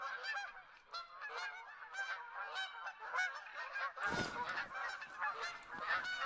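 A large flock of geese honks constantly in a dense overlapping chorus of nasal calls, with one louder, nearer burst of honking about midway through.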